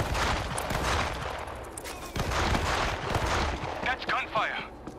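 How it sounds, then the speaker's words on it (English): Bursts of gunfire in the zombie shooter World War Z, loud and continuous with dense overlapping shots and booms, mixed with game sounds and a voice. "That's gunfire! From the bus!"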